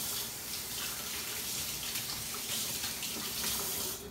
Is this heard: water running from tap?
yes